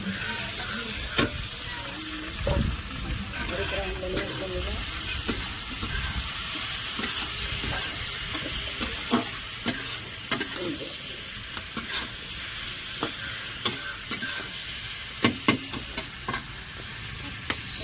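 Snails (ghongha) tipped into a hot frying pan crackle and sizzle steadily while a spoon stirs them, scraping and knocking against the pan in irregular strokes, close up with no voices.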